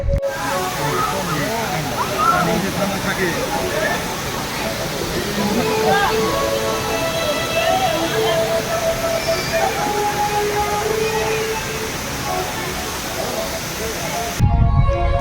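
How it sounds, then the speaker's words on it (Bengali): Near a waterfall at the foot of green hills in Kirio city, Japan, water rushes in a constant broad roar, with faint tonal sounds and distant voices mixed underneath. "সামনে ঝর্ণা রয়েছে"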